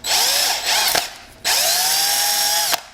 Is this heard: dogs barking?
no